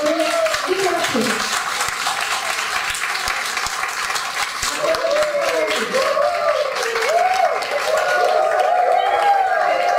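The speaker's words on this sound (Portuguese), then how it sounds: "eu gostaria de convidá-la, através de uma grande salva de palmas, a nossa magnífica Sem Fronteiras, a Carolin" Audience applause fills a book launch event, sustained clapping from a crowd heard alongside a voice speaking and faint melodic sounds over it.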